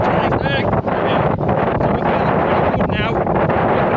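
Strong wind roars across a high, exposed hillside on the Yorkshire Three Peaks, buffeting the microphone with a loud, constant rumble, with brief indistinct voices underneath.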